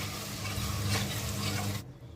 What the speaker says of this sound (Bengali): এবার অল্প পরিমাণে জল দিচ্ছি।